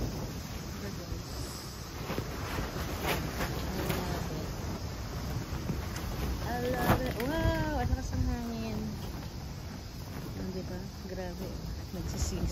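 Strong wind buffets the microphone with a constant rushing roar, while a person talks partway through.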